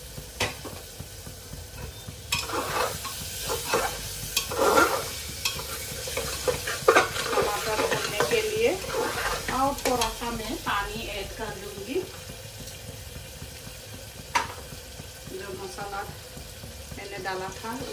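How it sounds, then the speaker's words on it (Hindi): Tomatoes stirred and fried in a pan while making chole for chole kulche, with steady sizzling and repeated scraping strokes, close and moderately loud, and someone talking over it at times. "अभी इसमें मैं जो टमाटर है उसे भी अच्छा से भून लूंगी"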